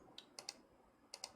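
A handful of quiet computer keyboard keystrokes, five sharp clicks in two small groups with a pause between, close and isolated with no talking.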